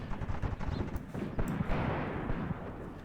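Enemy artillery strikes in a WW2 North African desert battle video game land as a dense rumble of low booms and crackling gunfire, with sharper impacts punctuating a continuous muffled roar.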